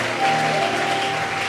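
A church congregation claps and cheers in a brief, steady burst of applause during a worship service, with a sustained tone under the crowd noise.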